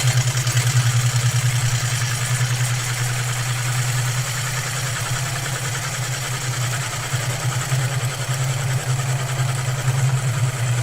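A wood lathe spins a piece of wood at about 550 rpm while a tool takes a very light cut. A steady, close motor hum with a low drone runs unbroken throughout, with faint scraping texture above it.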